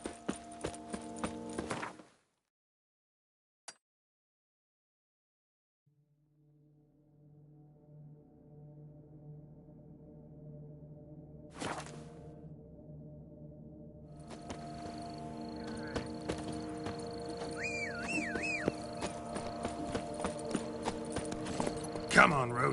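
Hooves of Roach, a horse in The Witcher 3, clopping in a steady walking rhythm that grows busier and louder over time, with ambient game sounds around them.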